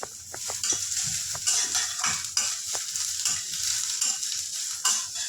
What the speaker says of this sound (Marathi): आता थोडंसं खोबरं टाकते खांद्यामध्ये खोबरं भाजून द्यायचं आणि आता लसूण पण टाकते म्हणजे लसूण पण भाजली जाईल याच्यात